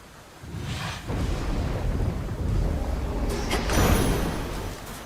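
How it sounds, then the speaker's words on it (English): Rolling thunder and rain in the video game Hades II, a broad low rumble swelling and fading with a few sharper cracks near the end, no voices. "Raining again."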